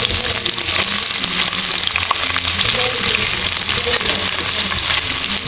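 Garlic frying in hot oil for bhuna khichuri, heard as a loud, close, dense sizzle that crackles steadily throughout without a pause, with no voices present.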